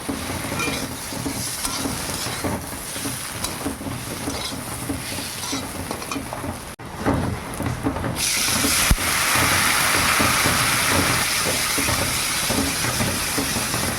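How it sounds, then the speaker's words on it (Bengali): Potatoes frying with cumin, mustard and chili paste give a loud, steady sizzle up close, broken by a few stirring scrapes. The hiss swells noticeably partway through. "মশলাটা দিয়ে ভালো করে একটু ভেজে নেই"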